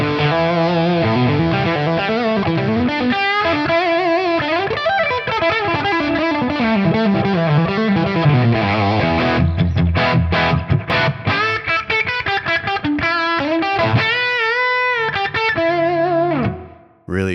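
Electric guitar played through Tonex amp modelling software at its third gain level, first input: a driven, distorted tone with sustained chords and melodic single-note lines, loud and alone, ending abruptly.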